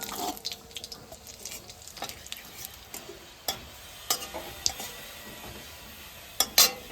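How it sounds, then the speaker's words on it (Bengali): Cumin seeds and dried red chillies are tempered in hot oil in a wok. A faint, soft sizzle runs throughout, broken by scattered light clicks and spoon taps, with a couple of sharper knocks near the end. "কড়াইতে তেল দিয়ে দেবো আর একটু জিরে আর শুকনো লঙ্কা ফোড়নে দিয়ে দেবো"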